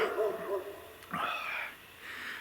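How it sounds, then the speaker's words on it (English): Neighboring dogs bark and yelp outdoors near a yard where limbs and branches are being cleared, a short strained call standing out at moderate distance, with quieter sounds before and after. "neighbor's dogs are barking"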